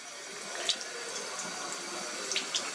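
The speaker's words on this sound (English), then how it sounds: "That's probably about the right flow for the water." Tap water runs in a steady stream through a Berkey water filter element to prime it, with small splashes and drips over the continuous flow.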